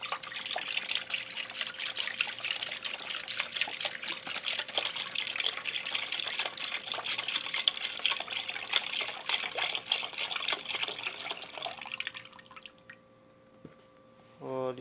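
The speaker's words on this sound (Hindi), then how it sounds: "अब ये ले लिए देसी, इसमें 1 लीटर दूध डालेंगे।" Milk, one litre, poured steadily into a cooking pot while making sheer khurma, a sweet milk and vermicelli dessert; a continuous close liquid stream splashing for about twelve seconds, then stopping.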